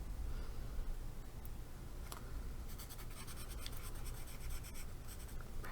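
A pencil scratches across paper in a quiet ASMR setting, soft close strokes with short bursts of quick scribbling toward the end.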